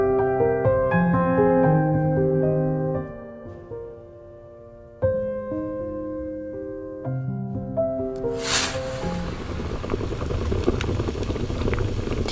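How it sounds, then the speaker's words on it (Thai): Soft musical tones play, then give way to a rushing, bubbling hiss of water boiling at a rolling boil, close by. "น้ำเดือดแล้ว"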